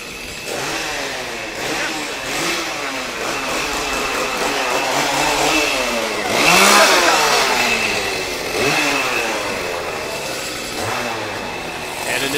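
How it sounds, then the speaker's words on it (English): Gasoline chainsaws rev at a Halloween haunt attraction at a theme park, loud and close, with repeated rising and falling engine whines over a dense crowd din, with people talking throughout. "Chainsaws."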